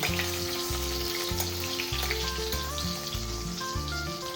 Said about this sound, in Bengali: এদিকে মাছগুলো প্রায় ভাজা হয়ে গেছে